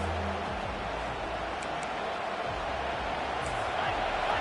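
A broad, steady roar from a large video game stadium crowd at a college football game fills the clip at full volume, a constant wash of cheering with no breaks.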